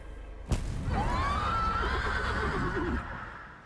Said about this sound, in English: Oh no, we got a horse situation.